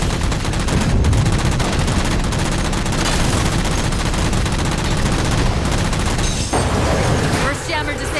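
Halo 4 combat gunfire rattles in a dense, sustained stream of rapid shots and impacts, loud and continuous, with a voice heard over the chaos near the end.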